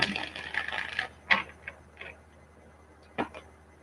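Tarot cards being shuffled by hand, giving a soft riffle followed by a few sharp isolated taps and flicks of cards, close and quiet with no talking.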